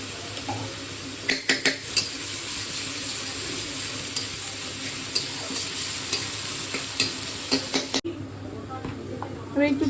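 Ginger paste sizzles steadily in a hot pan while a spoon stirs it and knocks against the metal in a few sharp clicks, close by, with a brief faint voice near the end.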